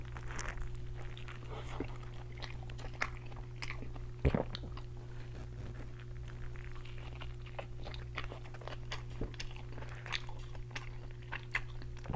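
Biting and chewing a burger with a seeded bun, lettuce and a tender beef patty, soft crunches and squishy bites repeating close up over a steady low hum, with no talk.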